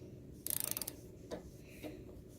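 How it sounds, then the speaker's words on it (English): Ratchet tightening the drain nut on a small engine, a quick run of about eight close, loud clicks followed by a couple of softer single clicks. "First thing I'm going to do is I'm going to tighten up this drain nut right here."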